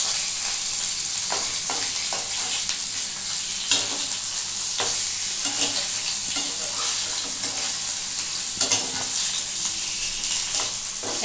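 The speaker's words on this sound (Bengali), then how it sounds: "একটু গ্যাসটা বাড়াচ্ছি, এটাকে একটু ভালো করে ভেজে নেব।" Paneer frying in oil in a pan over raised heat, a loud, steady crackling sizzle with periodic stirring scrapes, heard close up with no voices.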